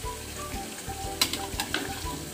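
Potatoes frying in oil and rendered fat with duck meat, a steady close sizzle with a few sharper crackles and pops partway through, no voices.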